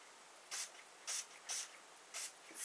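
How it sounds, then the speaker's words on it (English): Four short bursts of heat protection hair spray, each a sharp aerosol hiss lasting about a fifth of a second, spaced unevenly against a quiet background. "grab your heat protection spray."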